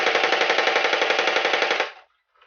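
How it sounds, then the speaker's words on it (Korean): A Warhammer 40k bolter airsoft replica fires a rapid, evenly spaced automatic burst of about two seconds, loud and close, then stops abruptly, leaving a faint mechanical rattle afterward. "왼손에 볼터를 들고 사격합니다."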